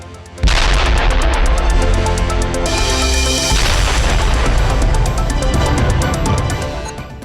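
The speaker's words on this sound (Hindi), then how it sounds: "उत्तर कोरिया ने सड़कों के कुछ हिस्सों को उड़ा दिया" A sudden loud blast from road sections being blown up in North Korea erupts and keeps rumbling and crackling for several seconds, a heavy sustained explosion that slowly fades.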